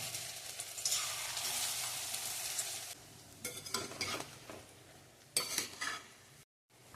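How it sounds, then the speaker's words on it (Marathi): Onion bhaji fritters fry in hot oil in a kadhai, giving a soft sizzling hiss mixed with stirring and scraping in the pan, several louder bursts of crackle, and a short silence just before a final knock. "त्यासाठी कढईमध्ये तेल गरम केले आणि त्यामध्ये"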